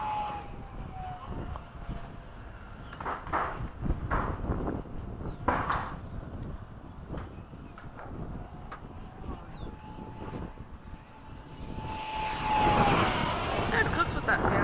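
The electric motor and fan of a Solo Skysword RC plane whine with a steady pitch that rises and falls as it flies past in bumpy conditions. The sound swells loudly near the end, and voices talk over it.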